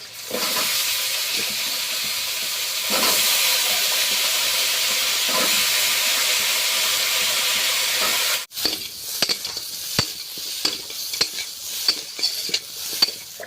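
Potatoes go into a hot pan of lightly fried crabs for a crab curry, setting off a loud, steady hissing sizzle that cuts off abruptly, followed by clinking stirring and scraping over a softer fry.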